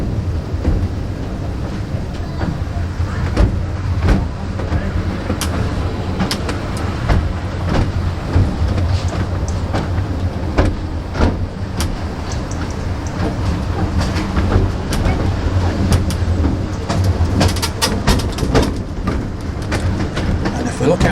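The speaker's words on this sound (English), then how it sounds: "we're now on the Scarborough North Bay Railway" Steady low rumble and rattle of a small open railway carriage on the Scarborough North Bay Railway, running along the misty seafront toward Peasholm Park, with continuous clicks and knocks and a voice speaking over it.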